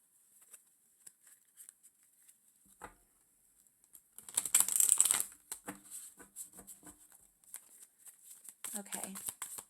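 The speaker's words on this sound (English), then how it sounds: "Let me go ahead and shuffle this" Soft riffling and flicking of cards being shuffled, a brief louder burst of rapid shuffling, then scattered taps and rustles at low volume.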